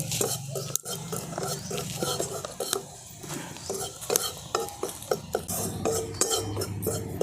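Gobindobhog rice flour being stirred and lightly roasted in a kadai, a metal spoon scraping and clinking against the pan in irregular strokes over a soft, faint sizzle, close and fairly loud, with no talking.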